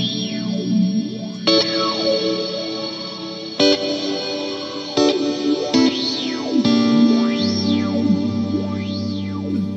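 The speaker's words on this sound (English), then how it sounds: "like so you can hear the phaser going on quite a bit, or the flange going on in the background." A guitar run through phaser and flanger effects pedals, with slow sweeping whooshes rising and falling over sustained chords that change a few times, steady and loud throughout.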